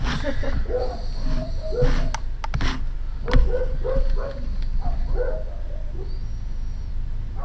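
Indoor dogs bark and yip repeatedly in short bursts at moderate distance, with a few sharp knocks and whimpers in between.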